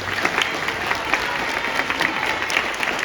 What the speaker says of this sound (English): applause to your teachers who are here today